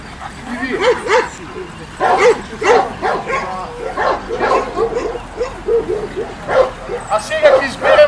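Macedonian shepherd dog (karaman) puppies aged three to six months barking and yipping at a national breed show, a rapid string of close high yaps and whimpers filling the scene.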